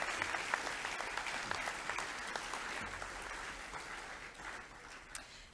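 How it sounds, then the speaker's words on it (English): A school assembly audience applauds Year 7 students with steady, dense clapping that holds evenly for several seconds, with only faint murmurs underneath. "Can you clap those Year 7 students?"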